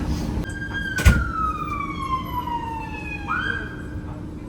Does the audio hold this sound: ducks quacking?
no